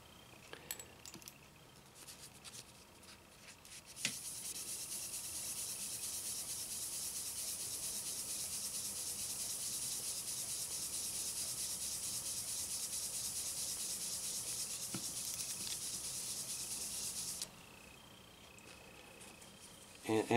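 A surfboard ding repair is sanded by hand with Trizact 3000 abrasive, making a steady, soft, high hiss of fine rubbing that runs unbroken for about thirteen seconds, framed by quiet handling clicks.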